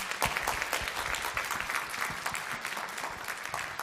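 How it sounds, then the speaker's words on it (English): Panel discussion audience gives a warm round of applause for Denise, a dense continuous patter of many hands at moderate level, with no voices heard. "Can we have a round of applause for Denise?"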